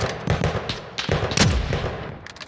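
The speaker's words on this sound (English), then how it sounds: "how many shots did I take at that guy's feet and just didn't hit?" A rapid burst of gunfire in Call of Duty Warzone: sharp, loud shots cracking in an irregular rhythm over a couple of seconds, with no talk over them.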